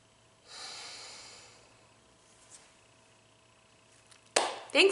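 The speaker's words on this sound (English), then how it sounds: "you're gonna take an in-breath when you trace up, and you're gonna exhale when you trace down" Slow breathing in and out during a calm guided exercise, a soft drawn-out inhale followed by a quieter exhale, close and faint, ending in a sharper burst of breath or rustle.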